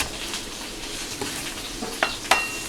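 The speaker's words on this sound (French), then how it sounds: "On le fait dorer de chaque côté, on le saisit." Meat searing in a pan with garlic, a steady close sizzle broken by a couple of sharp clinks of a utensil against the pan near the end; no talking.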